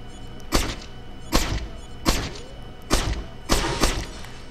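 Five evenly spaced muffled thuds, a suppressed pistol shooting out lights in Splinter Cell on PS2, each shot a short dull crack over a steady low game ambience, with no talk.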